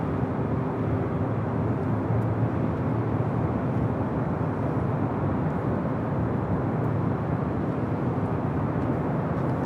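An ANA airliner taxis toward the gates at LAX, a steady broadband jet roar with low rumble holding at a constant, fairly loud level throughout, with no voices.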